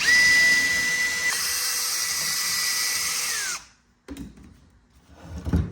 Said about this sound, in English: Now I'm gonna clean the spindle with my wire brush.